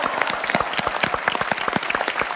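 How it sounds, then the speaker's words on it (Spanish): Audience applause at a Cuban comedy show, a brief burst of distinct, closely spaced hand claps in a lively, uneven rhythm, loud and near. "Otro aplauso más para Tomasita"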